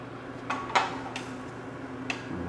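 A spoon clinks against a pot while stirring tomato gravy seasoned with pepper, producing a few scattered metallic taps and scrapes over a low kitchen hum.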